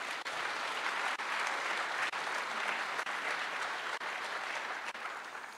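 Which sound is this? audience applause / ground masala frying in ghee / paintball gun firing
audience applause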